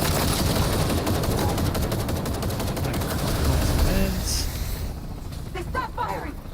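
Rapid gunfire from the video game Cyberpunk 2077 Phantom Liberty, dense bursts of shots filling the scene almost continuously, with voices shouting underneath and the firing thinning toward the end.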